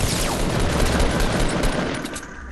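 A grenade launcher fires and its rounds explode in the Fortnite battle royale video game, a dense, loud burst of overlapping booms and blasts that rolls continuously for a couple of seconds before thinning slightly.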